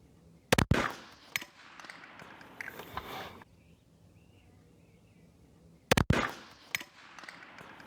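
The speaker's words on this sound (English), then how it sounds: "I blew a rifle up." A Ruger rifle fired outdoors, two sharp loud reports a few seconds apart, each followed by brief clatter and rustling before a quiet stretch.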